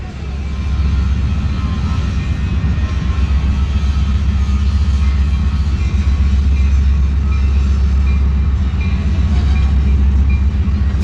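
Millat Express led by a ZCU 30 locomotive arrives at Toba Tek Singh railway station, a loud, steady low rumble of diesel engine and rolling wagons running unbroken throughout, with no talk.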